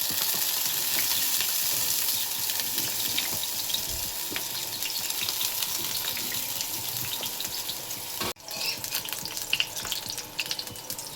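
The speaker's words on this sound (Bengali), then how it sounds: "একটু আলুগুলো ভেজে নিয়ে যাবে।" Potato pieces fry in hot oil in a wok, giving a loud, steady, close sizzle that holds for the whole stretch, with a brief dip near the end before it resumes, and no voices.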